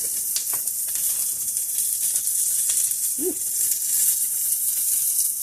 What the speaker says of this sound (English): I'm gonna throw in some minced onions